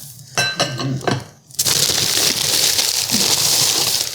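Plain white pie dishes clink and knock together as they are handled, several sharp ringing taps followed by a burst of crinkling wrapping.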